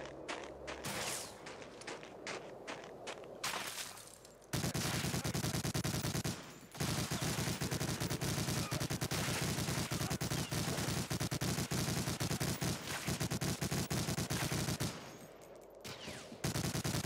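Sustained, loud machine gun fire and battle noise in the WWII shooter Medal of Honor: Allied Assault, dense rapid bursts running almost continuously with brief pauses.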